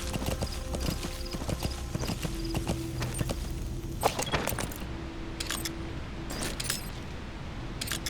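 A horse gallops in Metal Gear Solid V, a steady rhythmic clip-clop of hooves, close and continuous, with jangling tack and a few sharper thuds toward the end.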